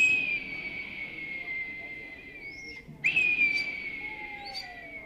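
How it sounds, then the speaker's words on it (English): A red-tailed hawk's long, harsh descending scream rings out, then a second raspy screech follows after a short gap, over a faint background hiss. "That's the sound of a red-tailed hawk."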